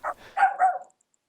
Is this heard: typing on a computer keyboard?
no